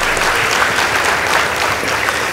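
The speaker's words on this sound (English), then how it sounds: "Please give them a round of applause." Steady audience applause fills the hall after scores are announced at a high school debate competition between two schools, dense clapping continuing evenly throughout without a break.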